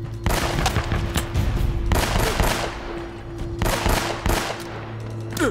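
Rapid gunfire fills a firefight in the video game Uncharted: Drake's Fortune, with dense automatic bursts and overlapping shots crackling continuously and loudly throughout, a few brief lulls between volleys, and no speech.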